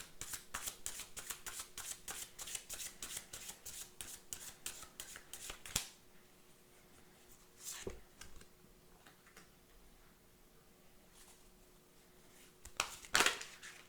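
Tarot cards being shuffled in a steady run of crisp riffling flutters, close and fairly quiet, then a few isolated card snaps and taps with quiet pauses between them.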